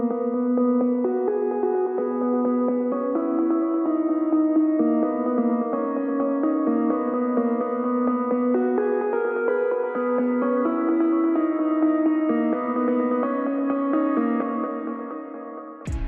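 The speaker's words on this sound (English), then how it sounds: "It's a very smooth guitar and having some little bit of EQ there" A smooth, EQ'd and heavily compressed guitar plays a flowing teaser of a progressive house drop melody, sustained notes gliding continuously and alone, bright and up front, ending with a sharp cut.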